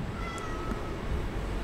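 A cat in the Minecraft video game gives a short meow, heard over a steady, dense game background hum that fills the brief moment.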